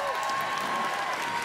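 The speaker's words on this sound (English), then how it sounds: "let's have a big round of applause for our judges." Audience applause for judges at a cosplay masquerade at MCM Birmingham, a brief steady wash of clapping from a large crowd in a hall, continuous and moderately loud throughout.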